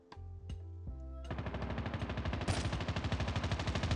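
Gunfire in COD Mobile: a few spaced single shots, then a long, steady stream of rapid automatic fire with evenly spaced, punchy reports.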